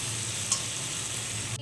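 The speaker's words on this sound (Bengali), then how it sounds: "একটু ভালো করে ভাজা হয়ে যাক।" Onion and tomato with salt and turmeric fry in hot oil in a wok, giving a short, even sizzle with one small clink partway through.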